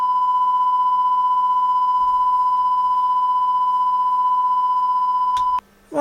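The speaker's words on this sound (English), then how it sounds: "And there's 1000 Hertz." Steady 1000 Hz test tone played through a Carlsbro Cobra 1100 200W PA amplifier, a loud continuous pure beep held for over five seconds before cutting off, followed by a short click.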